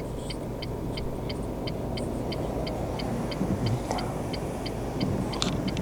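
A learner car pulls away uphill from the handbrake at a Wrocław driving-test junction, heard from inside as a steady engine rumble with a regular ticking indicator and a few faint clicks, no speech.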